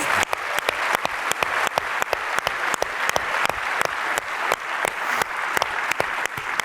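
Audience at an SXSW 2023 keynote breaks into sustained applause, a dense wash of many hands clapping with sharp individual claps standing out, loud and even for the whole stretch.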